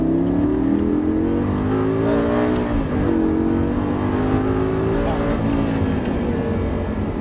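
A Lamborghini LP 560-2 accelerating hard around the Dreux race circuit, its engine loud and close as the pitch climbs through the gears with brief dips at shifts, while people talk over it.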